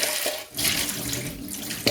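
Tap water runs into a plastic container being rinsed, a close, steady splashing stream that dips briefly and returns, with no speech.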